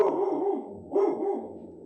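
A dog barks twice indoors at moderate distance, each bark a short voiced woof with a slight growly tail, spaced about a second apart.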